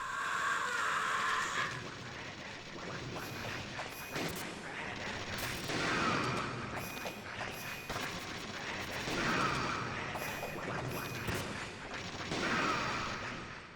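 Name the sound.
gunshot in the video game Metal Gear Solid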